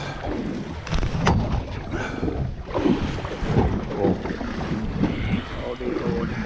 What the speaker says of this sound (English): What's that motor?